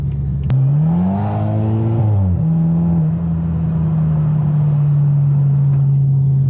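A tuned BMW M4 accelerates hard, the engine climbing steeply in pitch, then a quick aggressive upshift drops the revs before a steady, loud droning cruise follows, heard close from inside the car.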